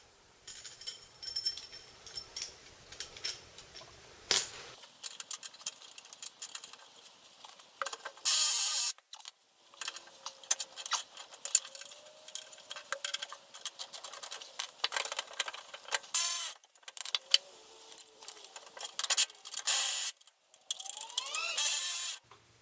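A Makita power tool works on removing a polyurethane steering rack bush on a VW T3/T25, heard as close, intermittent bursts of mechanical rattling and whirring separated by short pauses, with no talking.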